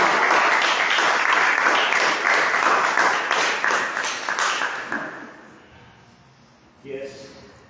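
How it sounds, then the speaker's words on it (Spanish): Church congregation applauding during a sermon, loud massed clapping that gradually fades over about five seconds, followed by quiet and a brief voice. "Den un fuerte aplauso a él, a la iglesia."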